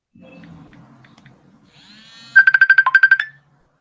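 A mobile phone ringtone goes off during a Zoom call, a loud rapid series of bright pulsed tones after a faint rising chime, with no talk over it.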